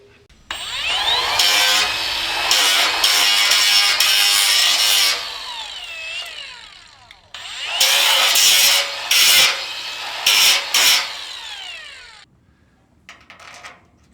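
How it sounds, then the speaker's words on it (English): Angle grinder and drill working on the metal grounding of an off-grid solar carport, loud bursts of high whining grinding with sweeping pitch, pausing between passes, then tapering to quieter handling noise near the end. "Got a little overzealous there with the grinder, didn't I?"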